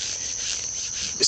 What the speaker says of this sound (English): Mosquitoes are bad today.